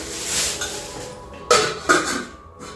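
A biryani pot and its heavy metal lid are handled, with two sharp close clanks of metal on metal over a quieter stretch of handling noise, and no talk.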